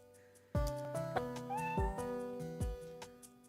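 A Nintendo DS game cat from Time Hollow meows repeatedly in a series of clear, close, tonal calls with rising and falling pitch, heard alone over a faint musical backdrop.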